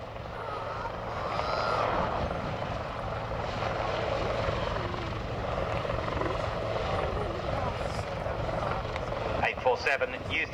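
Westland Lynx Mark 7 naval helicopter of 847 Naval Air Squadron at an air day display, a steady rotor and engine drone throughout, with commentary over a public address system running on top of it.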